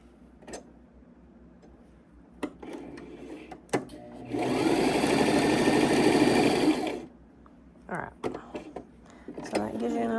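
A sewing machine runs in one steady burst of about three seconds, stitching pieces of a double wedding ring quilt together, with sparse clicks and handling sounds before and after it.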